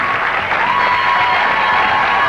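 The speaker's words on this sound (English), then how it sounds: "a round of applause for these nice folks for playing our game" Studio audience applauding at a 1996 television game show, a dense steady wash of clapping that fills the whole stretch at close, even loudness with a faint tonal line running through it.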